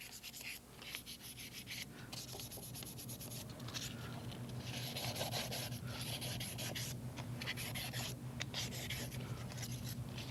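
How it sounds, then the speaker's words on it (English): Steel spindle and shaft of a REED gunite machine being cleaned with light-duty emery cloth, a faint, steady rubbing and scrubbing with irregular strokes throughout. "Take a light-duty emery cloth, clean all this, make sure there's no debris whatsoever."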